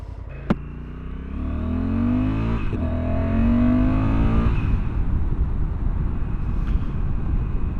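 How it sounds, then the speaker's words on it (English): A 2024 Honda Africa Twin engine with revised exhaust accelerates through the gears, its rising tone climbing, dropping at a shift, then climbing again before settling into a steady roar with wind noise. "the engine is revised, the exhaust is also revised, and it has a much nicer sound now"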